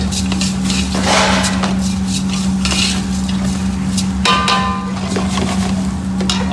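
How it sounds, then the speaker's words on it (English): Rice sautés in a pan for a shrimp risotto with a steady low sizzle under clinking and scraping of a utensil against the pan, near and continuous. "So little bit more saute with the risotto."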